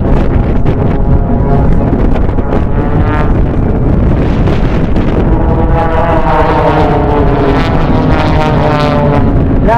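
Blades aerobatic team propeller aircraft flying the fan brake manoeuvre, a loud continuous engine drone with sweeping pitch shifts as the planes pass, heavily buffeted by wind noise on the microphone throughout.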